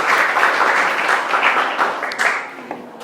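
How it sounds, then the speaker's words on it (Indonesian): Students in an Indonesian classroom clap their hands together for a classmate. The clapping is moderately loud with a dense, uneven patter and gradually thins out and fades toward the end. "Oke, tepuk tangan dulu untuk Bagus."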